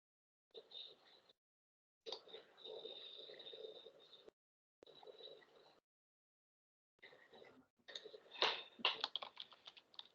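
Quiet, close keyboard typing in bursts separated by short pauses, ending in a faster flurry of key presses.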